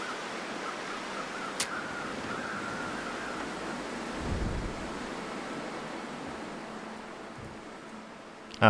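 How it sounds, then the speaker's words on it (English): Steady wind buffeting a microphone outdoors, a continuous rushing roar with a low rumble swelling briefly near the middle, fairly faint and alone with no talk. "So most of that's wind."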